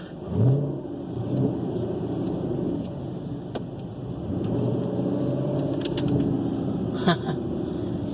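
The V8 engine of a 2018 Camaro 2SS rumbles steadily as the car drives around a parking lot, with throttle swells and brief revs rising and falling over several seconds.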